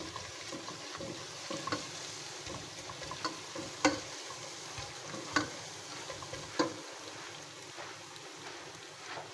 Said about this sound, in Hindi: इसको हम 1 से 2 मिनट तक सौते करेंगे।